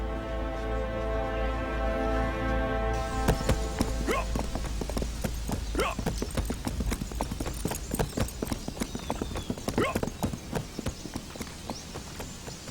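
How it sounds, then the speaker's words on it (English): Horse hooves clip-clop steadily and close by for most of the stretch, a rapid, even beat under a sustained musical tone at the start, with no talking. "You shouldn't ride horses."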